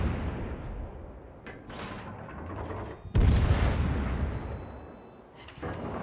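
Naval gunfire from the heavy cruiser Des Moines in World of Warships, a deep booming salvo that lands with a loud blast partway through and rolls off slowly, with a fainter boom earlier.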